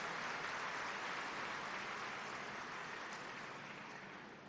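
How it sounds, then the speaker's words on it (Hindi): An audience at a Brahma Kumaris global summit event claps loudly in a sustained, dense wash of applause that slowly fades toward the end. "उसके लिए हम जोर से ताली बजा करके अभिवादन करें,"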